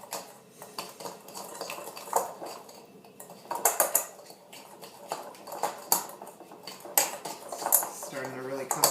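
A whisk clinks and scrapes rhythmically against a bowl while mixing date and clementine bar batter, close and moderately quiet with irregular bursts of metallic tapping.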